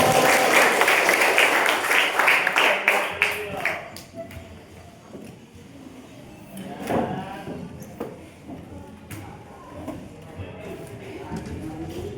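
A classroom of students claps together for a few seconds, bright rapid clapping that fades out, followed by scattered taps, shuffling and quiet voices in the room.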